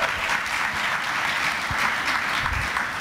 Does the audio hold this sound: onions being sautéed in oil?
no